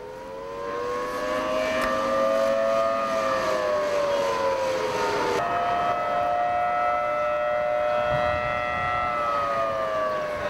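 A civil defense siren sounds in Kuwait, its steady wailing tones drifting slowly in pitch over a continuous low rumble, loud and sustained from start to finish.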